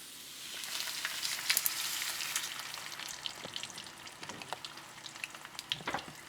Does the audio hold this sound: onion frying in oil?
yes